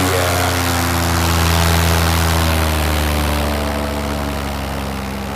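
A paramotor trike engine throttles up for takeoff with a loud, steady propeller roar and a strong low hum. The roar stays close and continuous throughout, and no talking is heard.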